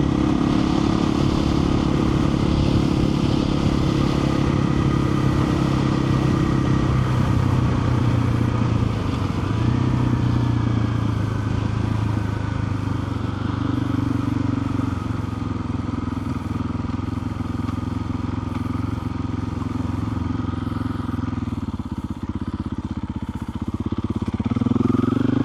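A KTM 500 EXC-F dirt bike fitted with an aftermarket exhaust cruises along country roads, its single-cylinder engine droning steadily and loudly throughout, with gear changes shifting the pitch and wind rushing past the rider.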